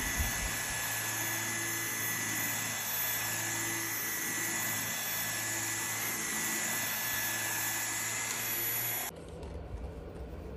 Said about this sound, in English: this is a really powerful handheld. It's getting up all of the dog hair